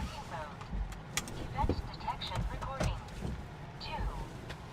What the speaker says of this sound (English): Love the little truck.